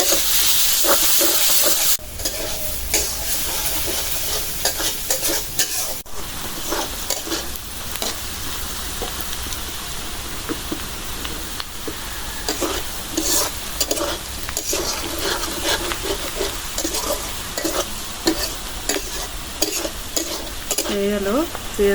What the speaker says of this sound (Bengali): পেঁয়াজ ভাজা এখন উঠাই